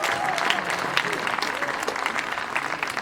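A hasya kavi sammelan audience gives comedian Vishwa Chauhan a steady, loud round of clapping that continues evenly throughout, with crowd voices mixed into the applause.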